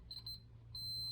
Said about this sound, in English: and beep.